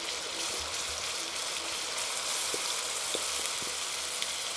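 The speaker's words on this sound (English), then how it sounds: "you want it to be sizzling away but not to get too hot" Curry sizzling steadily in a pan on a stovetop over a moderate flame, a continuous bright hiss with faint crackles, close and fairly quiet, with no voices.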